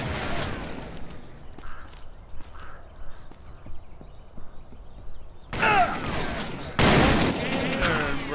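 Gunfire in Call of Juarez: Bound in Blood, a Western shooter, erupting in loud, dense bursts after a quieter stretch of sparse ambient noise with faint scattered hits, with other game sounds around it.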